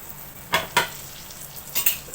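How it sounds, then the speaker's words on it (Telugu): Onions frying with eggs in a pan, with a few quick spatula scrapes and stirs over a faint, low sizzle; no voices. "బాగా మిక్స్ చేద్దాం."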